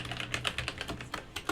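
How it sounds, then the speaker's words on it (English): Quick, uneven clicks of a computer keyboard clatter close by as someone types code, alone and brisk for a moment. "why am I typing so poorly today?"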